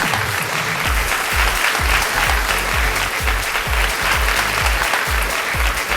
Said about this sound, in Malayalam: നല്ലൊരു കൈയടിയോട് കൂടി തന്നെ നമുക്ക് വേദിയിലേക്ക് സ്വാഗതം ചെയ്യാം.